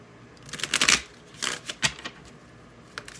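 Tarot cards shuffled by hand to draw clarifier cards, a quiet cluster of riffling card flutters followed by a few separate soft snaps, close and alone with no talk.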